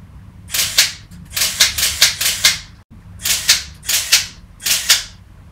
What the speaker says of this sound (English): It's got the motor drive on. This is how it sounds.